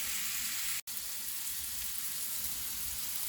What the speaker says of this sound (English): Just getting my sausage cooked here.